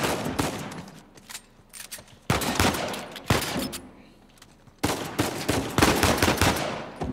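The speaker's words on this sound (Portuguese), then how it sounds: "Já estamos a levar a bué de tiros." Dense bursts of rapid gunfire and loud shots in Uncharted 4, near and continuous with brief lulls, like an intense firefight.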